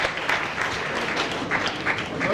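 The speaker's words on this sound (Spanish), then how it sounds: "un aplauso al primer valiente" A small audience applauds steadily for a first brave volunteer at a government accounting and auditing lecture, the clapping dense and continuous with no voices over it.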